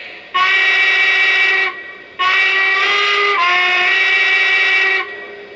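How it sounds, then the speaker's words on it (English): A small model train steam whistle on a Lionel brass engine blows two sustained shrill blasts, the second longer with a slight pitch shift, loud and close with a brief gap between. "Okay, so that's what the whistle sounds like."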